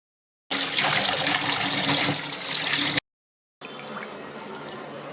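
Cleaned fish is rinsed under running water, a loud, steady splashing gush that cuts out briefly partway through and then returns slightly softer. Nobody talks.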